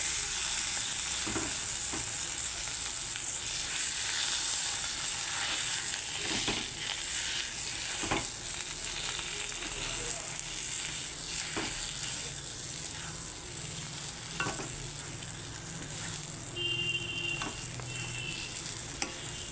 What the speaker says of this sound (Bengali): আলুটাকে ফ্রাই করে নেব।